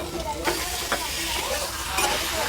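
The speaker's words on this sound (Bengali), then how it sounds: "ভেজে রাখা কচু আলু দিয়ে দেবো।" Fried taro and potato pieces hit hot oil and spice masala with Kashmiri chilli powder in a pan, sizzling steadily with a few sharp stirring scrapes, close and without talk.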